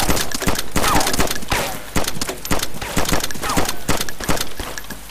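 Rapid volleys of gunfire in the survival video game DayZ, a loud, dense run of sharp shots with irregular rhythm and birdlike chirps mixed in, no talking.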